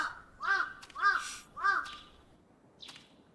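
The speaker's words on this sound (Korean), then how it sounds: "까마귀 소리 좋아요" Three harsh caws in quick succession ring out clearly, followed by a fainter fourth call after a pause.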